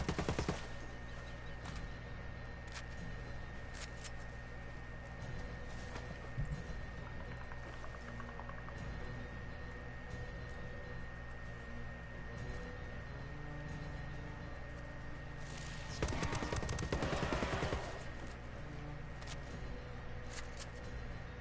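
Sustained automatic gunfire from a Predator video game, dense rapid bursts running nearly continuously under a steady game soundscape, with a louder, heavier volley near the end.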